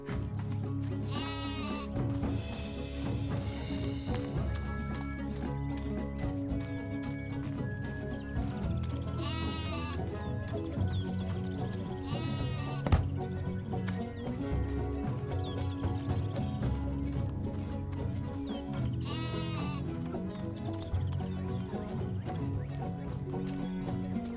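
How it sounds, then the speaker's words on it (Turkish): A young cartoon lamb bleats repeatedly in wavering cries spaced several seconds apart, heard over a continuous musical score at moderate volume, with no speech. "Sakin ol kuzucuk."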